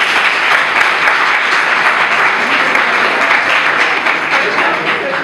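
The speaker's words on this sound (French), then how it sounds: "Je vous prie de l'applaudir pour ça." Loud, sustained applause from an audience at a Ramadan association event, honoring the association president, with broad continuous clapping throughout and faint voices beneath.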